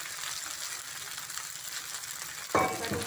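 Leftover cooked rice being sautéed in a pan for jeera rice gives a soft, steady sizzle with light stirring scrapes, then a brief louder clatter near the end.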